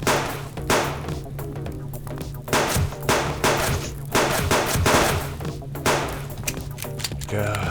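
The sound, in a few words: 9mm gunfire in the video game Subsistence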